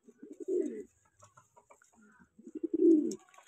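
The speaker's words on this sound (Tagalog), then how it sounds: "Special siguro yung kalapati nito, oh." Pigeons coo in low, rounded phrases inside a loft, two main bursts separated by soft rustles and faint chirps, close and fairly quiet.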